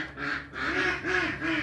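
Ducks quack in a close, loud run of four raspy calls that follow one another quickly.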